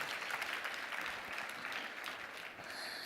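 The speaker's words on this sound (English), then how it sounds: "Round of applause," An audience at an NHS Citizen Expo conference in Manchester gives a round of applause, a fairly faint, even wash of many hands clapping that holds steady and thins slightly near the end.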